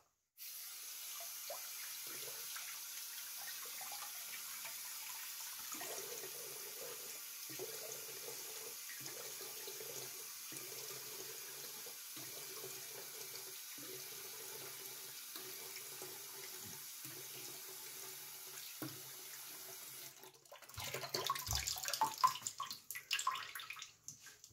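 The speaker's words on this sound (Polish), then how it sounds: "Zwilża twarz ciepłą wodą i przystępuje do golenia." A bathroom tap runs into a sink as water is used to wet the face before a wet shave, a steady soft rush broken by the splashes of hands in the stream, ending with louder, more irregular splashing at the close.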